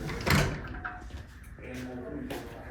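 A sectional overhead garage door is raised by hand, its panels rolling up through the track radius on lifting cables, giving a few rattling, sliding clunks with a sharp knock near the start and a quiet rumble between.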